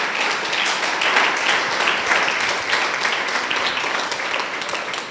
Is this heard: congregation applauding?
yes